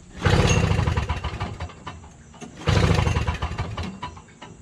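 A Toro Snow Commander 7HP R-Tek two-stroke single-stage snow blower is pull-started twice, each pull giving a rough burst of cranking chatter that dies away without the engine catching.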